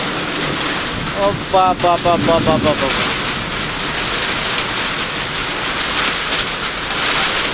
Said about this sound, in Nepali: एकदम वर्षा भइरहेछ है कैलालीमा